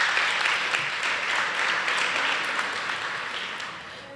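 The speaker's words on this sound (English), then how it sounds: "So also a very warm round of applause to our supervisors today." A warm round of applause from an audience at a university faculty research day, dense even clapping that fades gradually over four seconds.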